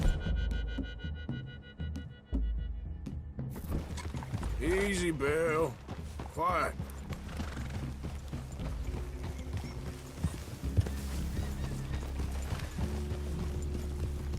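Horse hooves clip-clop in the Red Dead Redemption 2 video game, a steady plodding rhythm under game music and ambience, with a brief whinny and people talking over it.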